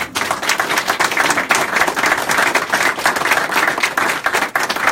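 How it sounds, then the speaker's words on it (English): Sustained audience applause at a Senate press conference on opioids, a dense, steady wash of many hands clapping for the full length with no voices over it. "Can I get a round of applause?"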